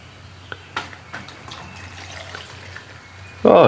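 Peated whiskey being poured into bottles through doubled coffee filters: a few soft clinks and a slow trickle at first, then a sudden loud gush of liquid near the end.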